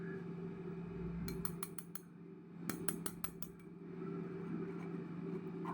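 A sieve of cocoa powder over cake batter is shaken and tapped, giving two quick bursts of light metallic clinks over a low, steady background hum.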